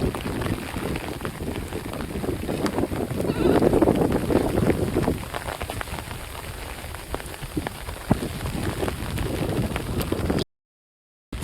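Steady heavy rain patters on a field in a Sundarbans village, a dense continuous hiss of drops that swells and eases, with goats bleating faintly now and then.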